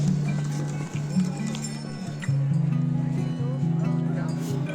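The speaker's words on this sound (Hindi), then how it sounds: "कुछ घोड़े यहाँ से थोड़े और आगे भी जाते हैं" Horses' hooves clip-clop at the Kedarnath base camp in the cold evening, a faint rhythmic patter under a steady low hum, with people talking nearby.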